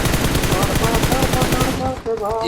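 Rapid automatic gunfire from the PUBG video game rattles in loud, continuous bursts, dipping into a short gap and a few scattered shots near the end.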